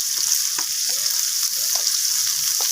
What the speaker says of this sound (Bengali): সমস্ত কিছু মশলাকে আলু পেঁপের সাথে এইভাবে নাড়াচাড়া করে কষিয়ে নেব